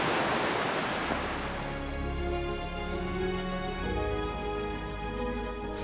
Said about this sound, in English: I found the waterfall!